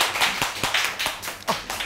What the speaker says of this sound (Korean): 다들 큰 박수로 안녕하세요